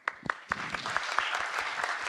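A lightning-talk audience at PyCon Italy 2025 breaks into applause, starting with a few distinct individual claps that quickly build into a dense, steady patter of many hands, moderately loud and without voices.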